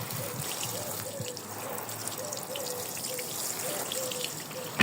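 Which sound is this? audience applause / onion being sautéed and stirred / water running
water running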